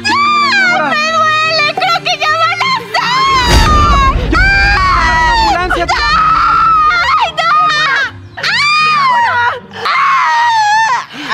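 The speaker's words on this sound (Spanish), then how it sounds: "Esos gritos no son normales." A woman in labour screams in a dramatized telenovela birth scene, with long loud anguished cries alternating with urgent voices shouting and a burst of noise near the start.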